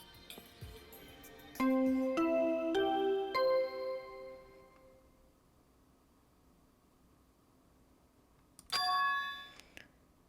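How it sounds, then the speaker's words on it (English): In Danganronpa: Goodbye Despair, the chime that announces a body discovery rings as a bright, tonal electronic bell that steps through several notes, goes quiet, then sounds again briefly near the end. "That bell just now."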